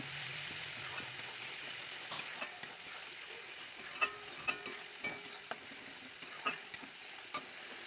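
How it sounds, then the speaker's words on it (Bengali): Spice paste and onion fry in a pan for a fish curry, a steady close sizzle broken by repeated scraping clicks of a spoon stirring, with no talking. "ভালো করে একটু ভাজা হলে টমেটোটা দেব"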